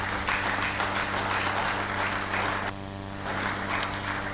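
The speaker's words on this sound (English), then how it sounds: "I think they deserve a round of applause." An audience at an alumni reunion's annual general meeting applauds, a dense, even wash of clapping that dips briefly in the middle and then swells again.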